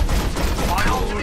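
Rapid gunfire from the video game Overwatch, a dense, continuous burst of shots lasting about a second, loud and close, with game sound and voices blended underneath.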